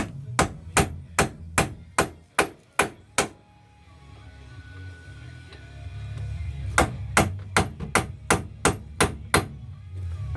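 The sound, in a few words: hammer striking wheel hub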